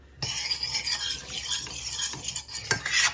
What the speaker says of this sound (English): now it's time to stir our pickles into our ground beef and onion mixture